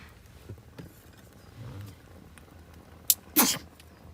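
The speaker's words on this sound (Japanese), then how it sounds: "くしゃみ出そう。" A sneeze inside a smoke-filled tent at a seaside campsite with a campfire: a short sharp burst followed by a louder, longer second blast near the end, close to the microphone, over quiet background.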